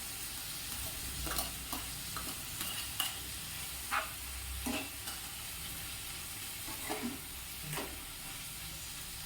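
Onions and carrots sautéing in a pan, a low steady sizzle with scattered clinks and scrapes of stirring, close and moderately quiet, no talk.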